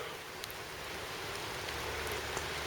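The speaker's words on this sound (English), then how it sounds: "So it's raining again." Steady rain falling and pattering on surfaces in a town of half-timbered houses in November, a dense continuous hiss heard alone without any voices.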